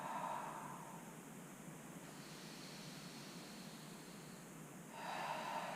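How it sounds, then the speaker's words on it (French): A long, deep exhalation rushes out softly and steadily during a lateral rib-cage breathing exercise in a beginner Pilates session, bracketed by quieter breath sounds at either end. "Tu souffles profondément."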